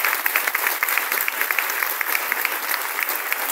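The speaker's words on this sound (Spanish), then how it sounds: "Vuelvan a dar un aplauso muy fuerte." Loud, dense applause from an audience at a school storytelling event, continuous clapping filling the whole stretch with no voices on top.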